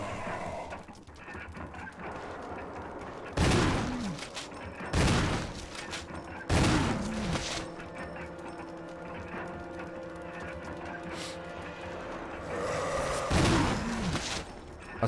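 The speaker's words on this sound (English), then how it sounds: "Assault shotgun OP." Assault shotgun blasts in the Resident Evil remake video game, four heavy booming shots spaced a second or two apart, loud over a steady droning game soundscape.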